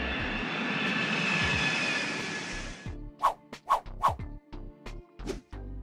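A Boeing 727 airliner's engines roar loudly and steadily during takeoff for about three seconds, then the roar cuts off and a series of short, sharp sounds follows.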